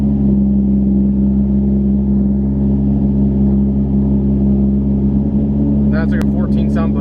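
A Toyota Supra engine with a new fuel system runs close and loud in a steady, deep droning hum, with a few brief clattering knocks near the end.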